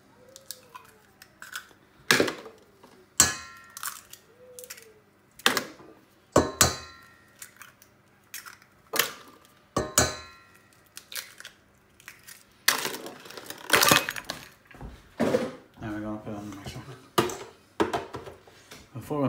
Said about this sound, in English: We're going to crack in our eggs.